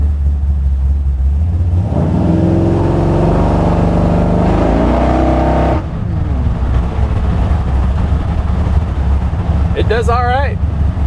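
A carbureted car fitted with an Edelbrock VRS 4150 carburetor accelerates hard in third gear, its engine note climbing loudly for several seconds, then easing off into a lower rumble as a voice speaks briefly.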